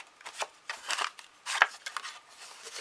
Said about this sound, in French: Et on va découper la dentelle du haut.